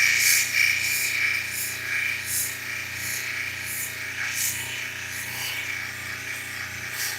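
A flint and larimar cabochon is pressed against a spinning polishing wheel, producing a steady whirring hiss broken by repeated bursts of scraping friction as the stone is worked in strokes.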